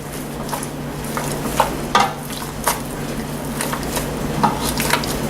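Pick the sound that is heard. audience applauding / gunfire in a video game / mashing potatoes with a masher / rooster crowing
mashing potatoes with a masher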